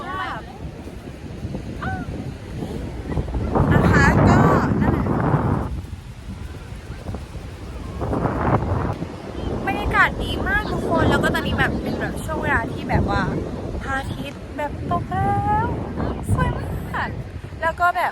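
Gusty wind roars across the microphone on a Hua Hin beach with surf behind it, swelling loud in bursts while someone talks over it.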